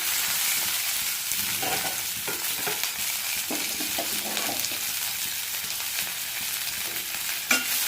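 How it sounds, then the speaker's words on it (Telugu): Chopped onions fry on a medium flame for a Tamil Nadu hotel-style tomato chutney, giving a dense, even sizzle close up, with a few soft scrapes of a spatula and no voices. "ఈ ఉల్లిపాయలని మీడియం ఫ్లేమ్లో దోరగా వేగనివ్వండి"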